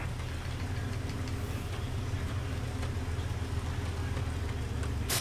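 A video game aircraft's engine runs steadily after landing, a constant low droning hum with a faint knocking texture, sustained and fairly near with no talk.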